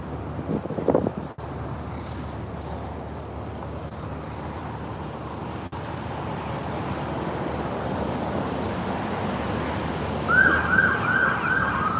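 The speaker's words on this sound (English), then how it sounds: "Where is that siren coming from?" A police siren wails faintly in the distance in Yakima, Washington, over steady rumbling background noise, rising slightly louder near the end.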